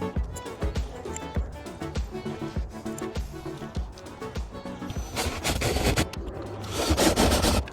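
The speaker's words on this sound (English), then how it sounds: "now I'm going to put the screws back in and we are done" Screws are driven back in after an outdoor faucet hydrant is installed, a steady scraping, grinding tool sound with rhythmic pulses that grows louder and denser toward the end.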